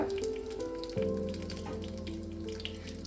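Dried red chilies and bay leaves hit hot oil in a wok and crackle with a close, bright sizzle, busy popping over a steady hiss, with no talking.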